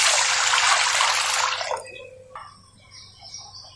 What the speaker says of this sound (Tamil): 3 கிளாஸ் தண்ணி சேர்த்துக்கிறேன்.